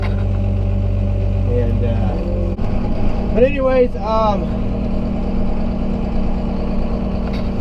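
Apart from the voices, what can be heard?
tractor engine running while driving into a shed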